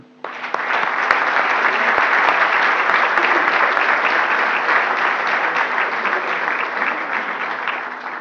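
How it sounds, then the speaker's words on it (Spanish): Lecture audience at a medical talk breaks into sustained, even applause that starts abruptly and continues strongly for several seconds, a close, dense wash of clapping. "Los felicito y les pido un gran aplauso"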